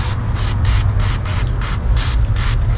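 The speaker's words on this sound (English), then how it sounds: "You just spray under the leaves." Repeated bursts of a hand sprayer spraying liquid under squash plant leaves against squash bugs and aphids, about six quick pumps in a steady rhythm, hissing loudly and close.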